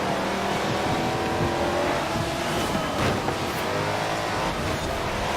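A Dodge Charger Daytona races in Forza Horizon 4, its engine roaring loud and continuous at high revs with shifting pitch throughout, no voices over it.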